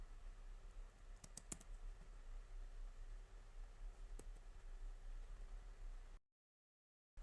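Keystrokes on a computer keyboard as a command is typed into a Linux terminal, a few sharp clicks clustered early and one more later, fairly faint over steady background hiss.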